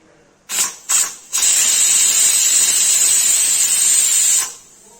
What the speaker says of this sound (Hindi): गाइस देखिए इसमें सीटी आने वाली है।